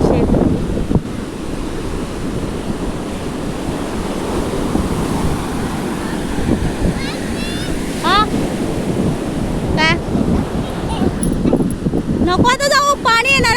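Water waves wash steadily up onto a shore, a continuous broadband surf rush mixed with gusty wind buffeting the microphone, with brief voices and squeaky calls near the end.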